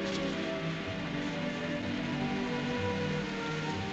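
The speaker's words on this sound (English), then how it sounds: "Starting to rain." Steady rain begins falling outdoors at an English country house, a dense, even hiss of drops holding at constant loudness with no voices over it.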